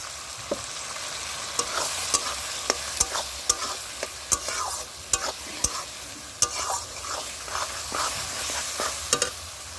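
Green chili and ginger-garlic paste sizzling with chicken in a pan, a continuous loud fry punctuated by repeated sharp scrapes and clacks of a spatula stirring, close and steady with no talk.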